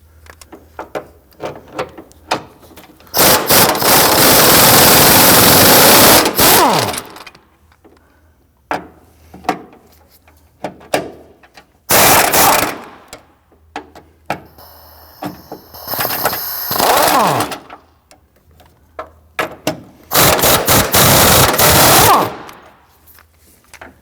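Motor mount bolts on a 2010-2019 Ford Taurus 3.5L V6 are run out with an 18mm socket on an extension, giving several loud, harsh rattling bursts of a few seconds each, separated by quieter gaps.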